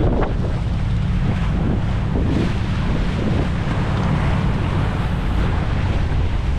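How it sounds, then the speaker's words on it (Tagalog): A loaded boat's engine runs steadily at sea during its final sea trial, a loud constant roar mixed with heavy wind buffeting and rushing water, with no pauses. "Smooth lang yung takbo ng makina natin"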